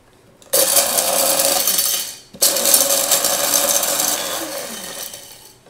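Electric spice grinder pulverizing cumin and other spices for spiced cauliflower, two loud whirring bursts of gritty rattling, the first about two seconds, the second longer and slowly fading, close with no talk.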